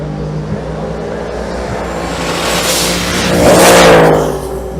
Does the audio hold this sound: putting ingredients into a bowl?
no